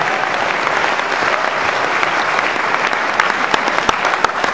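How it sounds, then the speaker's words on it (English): Sustained applause from an audience at a 2008 political rally introducing Barack Obama, steady dense clapping filling the hall at close range with no talk over it. "Give him a round of applause anyway."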